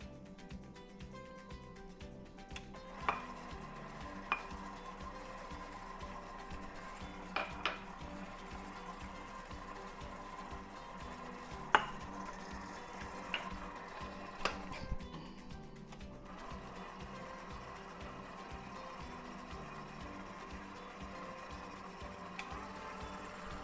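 Pretzel dough of flour, melted butter and sugar is mixed and kneaded under a steady low mechanical drone, broken by occasional sharp clicks and knocks, with no talking.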